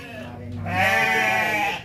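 A Texel sheep from Medan gives a single loud, close bleat that rises and holds, with low background noise from a livestock pen.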